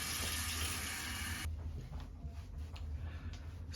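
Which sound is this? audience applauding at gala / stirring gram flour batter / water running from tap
water running from tap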